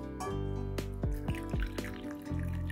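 Hot water poured into a cup already holding thin milk, several short splashing drips and pours close by, with soft clinks between them.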